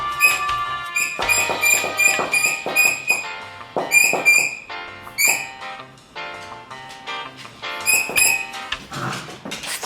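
A Jack Russell terrier at home making loud, close, high-pitched yelps and whines in rapid bursts, repeating with short pauses across several seconds.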